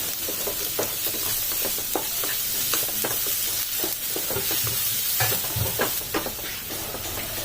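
Tomatoes fry in a pan on a low flame for paneer butter masala, giving a continuous sizzle and hiss broken by frequent scraping stirs, near and steady with no talking.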